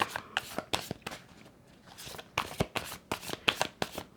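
Tarot cards being shuffled by hand, a quick series of crisp riffling flicks and slaps in two bursts separated by a short pause, close and fairly quiet.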